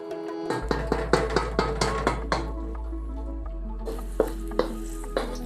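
Garlic cloves fry in oil over low heat in a pan, a steady close sizzle with a constant hum beneath. A run of sharp clicks and taps comes at the start, and softer scattered clinks follow later.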